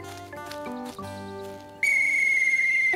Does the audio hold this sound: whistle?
yes